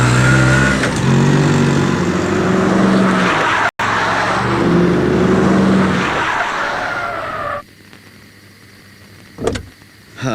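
An auto rickshaw engine approaching on a street, loud and rough with a tire-squeal-like edge that runs steadily for about seven seconds, then drops to a quieter hum with a brief swell near the end.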